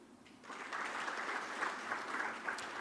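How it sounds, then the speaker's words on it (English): Delegates at an energy conference in Ghana clap for a Nigerian official, a faint, distant patter of many hands that swells in after a quiet start and carries on evenly. "I see that Nigerians are clapping for their people more."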